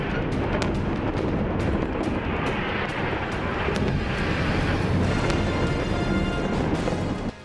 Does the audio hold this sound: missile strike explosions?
yes